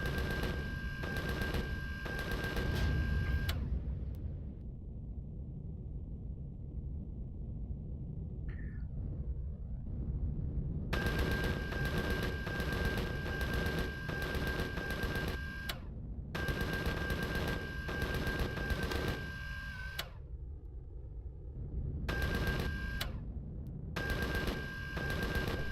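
Weapons fire in the sci-fi survival game Empyrion comes in rapid automatic bursts, separated by short quiet gaps. It is fairly faint overall, and no one talks over it.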